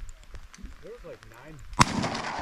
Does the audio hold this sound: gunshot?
yes